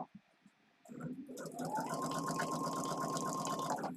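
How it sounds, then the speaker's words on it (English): A sewing machine starts with a few clunks, then runs at a steady whirring pace with a faint high whine, close by and fairly loud. "we're about to get the sewing machine going"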